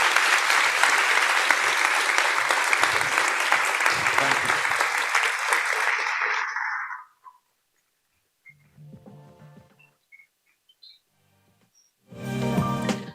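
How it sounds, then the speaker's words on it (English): A large audience at the NATO Youth Summit in Washington, D.C. gives the Secretary General a long round of dense, loud applause that fades out after about seven seconds, followed by scattered quieter sounds and a brief burst of noise. "Please, let's thank the Secretary General with a round of applause."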